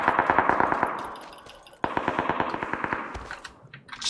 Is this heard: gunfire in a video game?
yes